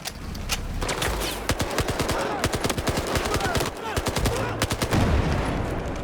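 Bursts of rapid automatic gunfire rattle loud and close in a Battlefield 4 firefight, with single shots scattered among them and a voice speaking over the combat.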